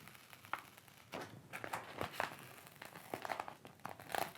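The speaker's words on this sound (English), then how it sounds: "you're gonna very carefully peel up this corner" A corner of an adhesive Fishskyn skin slowly peeled up from a MacBook, giving soft crinkling and tearing crackles in short irregular bursts, close and quiet, with no talk.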